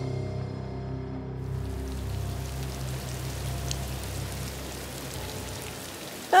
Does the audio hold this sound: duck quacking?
no